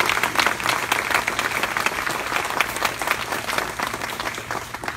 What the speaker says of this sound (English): Could we have a round of applause for this